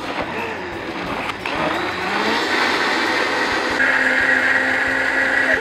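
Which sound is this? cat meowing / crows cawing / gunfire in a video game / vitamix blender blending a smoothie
vitamix blender blending a smoothie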